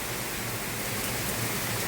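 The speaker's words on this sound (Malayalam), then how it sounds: "ഇന്ന് പെട്ടെന്ന് മഴ വന്നു" Sudden heavy rain at night, part of a thunderstorm, falls as a steady, dense hiss that stays close and even from start to finish with no gaps.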